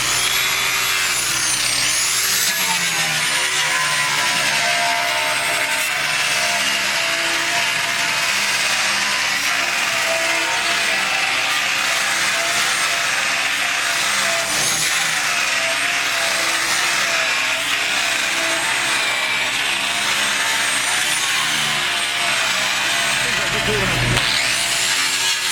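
A soft polishing wheel spins continuously with wax, giving a steady, loud whirring drone with faint tonal whine, running without pause throughout while people talk intermittently.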